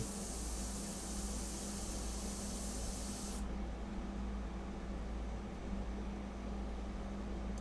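An airbrush loaded with India ink sprays a steady, close hiss that runs unbroken throughout, its bright airy top dropping away partway through while the lower rush continues.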